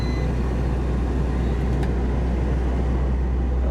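A 1991 Acura NSX's mid-mounted engine idles steadily after starting, a loud, constant low rumble filling the whole stretch with no talking.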